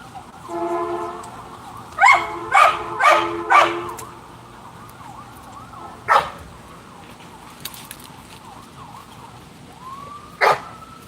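A big dog barks outdoors beside a tent at night in wolf country: a quick run of loud, sharp barks, then two more isolated barks spaced apart, with faint tonal sounds in between.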